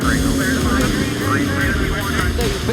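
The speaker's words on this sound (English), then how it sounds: "The unmistakable sound of engines roaring out of the pit lane." IMSA race car engines roar out of the pit lane at WeatherTech Raceway Laguna Seca, a dense, loud mechanical drone with rising and falling pitch sweeps as cars accelerate past, with a commentator's voice over it.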